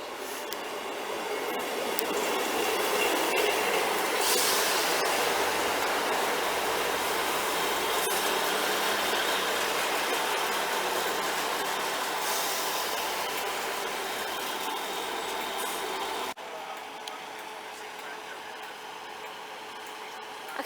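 A Great Western Railway train pulls away from Liskeard station on the Cornish main line, a steady mid-distance drone and rail noise that swells early, holds, and eases off in the final seconds, with no talk.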